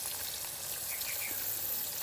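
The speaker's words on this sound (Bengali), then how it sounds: "এদিকে মাছটা ভাজা হচ্ছে।" Catla fish pieces frying in oil in a pan give a steady, close sizzle with fine crackling and popping throughout, a continuous hiss with no voices.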